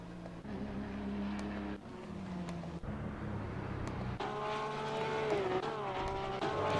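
A Porsche 911 GT3 R race car wiping out at Spa in Assetto Corsa Competizione, with engine tones shifting pitch and tires skidding and squealing, loud and close, while another car's engine whines in the background.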